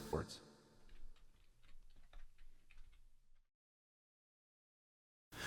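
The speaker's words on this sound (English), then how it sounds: "and I'll type in the chords." Chords being typed on a computer keyboard into a music plugin, quiet close key clicks in an irregular run for about three seconds before silence.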